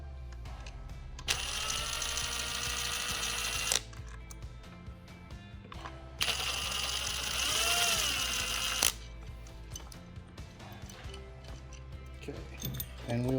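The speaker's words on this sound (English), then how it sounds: "Richard, grab your impact, because I'm not getting tools dirty." An impact wrench works on the clutch of a Yamaha Warrior 350 ATV, firing two long sustained whirring bursts of about three seconds each, loud and close over a low background hum.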